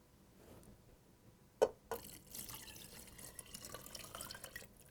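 Chicken broth poured into a big stock pot over stewed tomatoes and tender vegetables for Mexican chicken soup, a brief splash and then a steady, fairly faint trickle of liquid.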